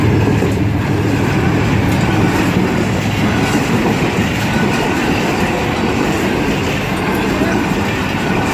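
A train passes through Drigh Road railway station on the Karachi Circular Railway line, a loud, close, continuous rumble with rhythmic wheel clatter and faint squeal running throughout.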